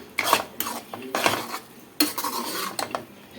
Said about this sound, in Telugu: ఒక్కసారి కలిపేసేసుకుందాం ఇది.